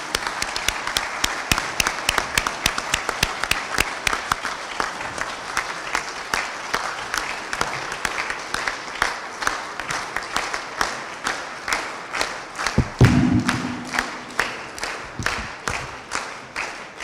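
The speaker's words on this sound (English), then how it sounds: "giving a very loud applause to welcome the Prime Minister" Loud audience applause greets the Prime Minister at a regional interministerial conference, dense clapping that thins toward the end into scattered individual claps, with no talk over it.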